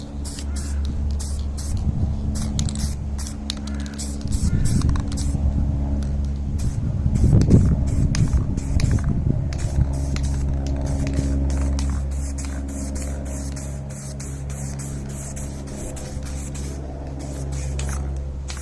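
Aerosol spray can laying a light dust coat of paint onto Kawasaki ZX6-R motorcycle parts: repeated short hissing bursts, close and fairly loud, over a steady low background hum.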